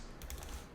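Several quick, soft keystrokes on a computer keyboard in a short burst, faint and close.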